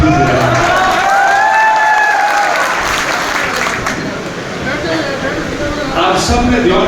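An audience claps at a political rally in Bengaluru, a sustained wash of applause and crowd noise close by that swells again toward the end.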